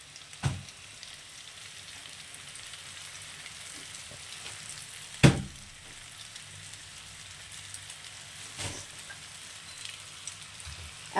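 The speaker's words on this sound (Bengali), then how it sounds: "চাউমিনটা কিন্তু এখন একটু হাই ফ্লেমে এটাকে ভালো করে ভাজতে হবে" Boiled chowmein noodles fry in a pan on a high flame, a soft steady sizzle with a few sharp spoon knocks, fairly quiet and without speech.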